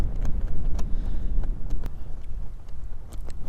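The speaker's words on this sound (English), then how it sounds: "Here comes the wind." Strong gusting wind buffets the microphone beside a lake during a fishing outing, a loud, continuous roar with rough low rumbling and brief crackling bursts, no voices.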